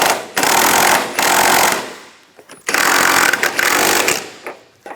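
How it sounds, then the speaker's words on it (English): Nut tightened down with a power tool, loud rattling bursts of impact hammering in two long runs separated by a short pause, close and dominant. "Now tighten this nut down."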